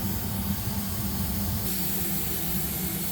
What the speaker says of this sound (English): we got a steady stream of steam